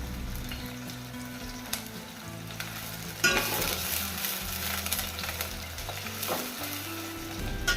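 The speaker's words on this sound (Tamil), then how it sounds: "எல்லாத்தையும் கொஞ்ச நேரம் நல்லா வதக்கிக்கலாம்." Curry leaves and garlic sauté in hot oil for a Tamil garlic kuzhambu, giving a steady close sizzle and crackle with occasional stirring scrapes and louder spatters, no voices.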